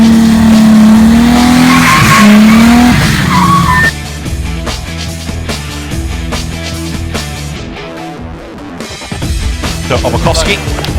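Race cars at a car racing event scream past with rising engine whine and sharp tire squeal, loud and close at first before easing back, while a voice talks over the action.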